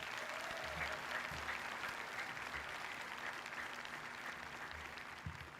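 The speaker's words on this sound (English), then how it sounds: "Can we give them another round of applause, please?" Graduation ceremony crowd at a high school applauds the class of 2021 in a steady, fairly quiet wash of clapping that holds for the whole stretch with a faint low hum underneath.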